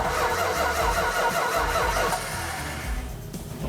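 An old Dodge Challenger's engine cranks and catches, a loud close rumbling churn that settles toward a rough idle, with no talking.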